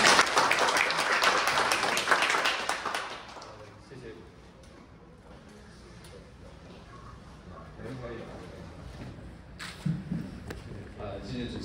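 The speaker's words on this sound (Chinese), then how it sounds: "我们用掌声欢迎他" An audience at an art award exhibition opening in a cultural center applauds to welcome a speaker, a loud burst of clapping that fades after a few seconds, followed by quieter room sound and talk.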